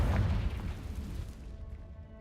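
A Confringo spell bursts in Hogwarts Legacy as one heavy, deep blast that starts loud and then rumbles away into a fading tail over about two seconds.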